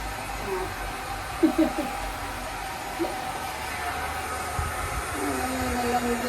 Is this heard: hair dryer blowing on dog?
yes